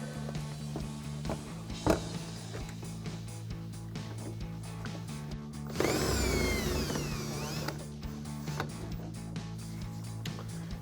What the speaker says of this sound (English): Now we're going to drill one last hole back here.